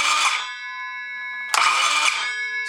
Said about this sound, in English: This saw also has an electric brake.